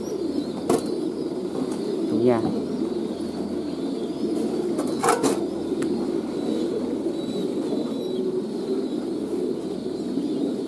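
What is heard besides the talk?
French pigeons cooing and flapping at a pigeon farm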